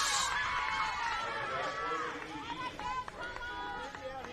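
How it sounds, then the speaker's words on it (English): New Zealand under-15 women's softball players cheering in a game against Australia, high excited shouts and calls from a group, fairly close, mixed with crowd chatter. "You hear the New Zealand players cheering"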